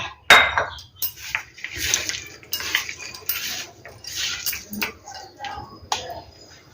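A hand mixes dry peanut pakoda batter in a bowl, making irregular rustling, scraping and knocking sounds of varying loudness that come in bursts, with occasional clinks against the bowl.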